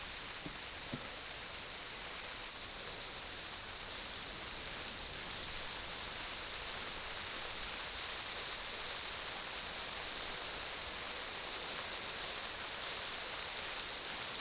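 Steady outdoor rainfall makes an even, continuous hiss for the whole stretch, with a few faint drips and rustles in it and no talking.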